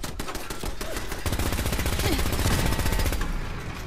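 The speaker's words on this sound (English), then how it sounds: "So rude to shoot me" Rapid, loud enemy gunfire from Fallout 4 crackles in a steady stream of close, repeated shots, growing denser and heavier partway through.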